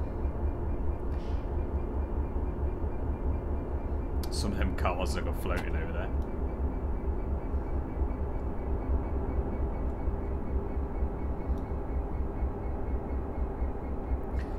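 Class 66 diesel freight train heading from Huntingdon to Whitemoor Yard in Train Simulator Classic, a heavy, steady low rumble and engine drone throughout, with a brief squeal partway, under continuous talking.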